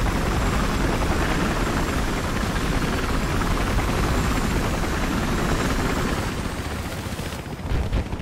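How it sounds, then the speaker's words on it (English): A loud, steady transport helicopter rotor roar in the video game Battlefield Hardline fills the scene with dense noise and faint rapid gunfire-like crackles, fading slightly near the end. "Transport chopper!"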